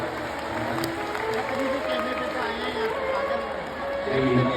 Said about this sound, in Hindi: जोरदार तालियों का स्वागत।